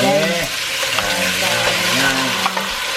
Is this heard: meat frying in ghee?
yes